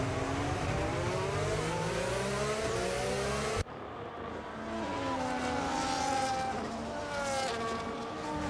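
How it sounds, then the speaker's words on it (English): Formula 1 race cars from the 2009 Brawn GP era idle and rumble together on the starting grid at the Chinese Grand Prix in a racing video game, a steady layered engine drone with a sudden shift partway through. "As all the cars take their positions on the grid"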